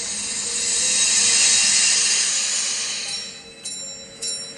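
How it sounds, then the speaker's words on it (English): A bell rings inside a vacuum chamber as air is let back in, a bright sustained metallic ringing with a hiss of inrushing air, followed by a couple of sharp strikes near the end. "now I think you can hear the bell quite clearly"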